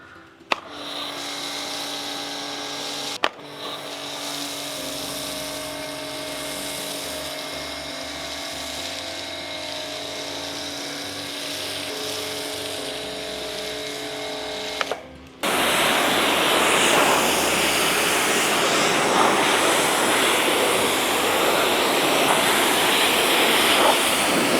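A HEUGOR pressure washer runs with a steady motor whine, then bursts into a loud, broad hiss of high-pressure water spray that continues to the end, close to the microphone with no speech.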